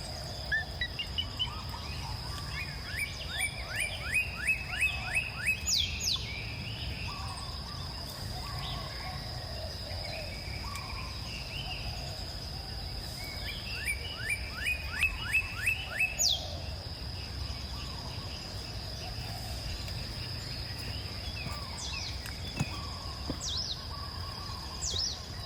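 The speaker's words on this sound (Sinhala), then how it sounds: "රැහියන්ගේ ශබ්ද, කුරුල්ලන්ගේ ශබ්ද," Forest birds and insects along the Adam's Peak trail: a steady high insect drone with repeated rapid chirping bird calls in bursts, and distant rushing water beneath, with no talking.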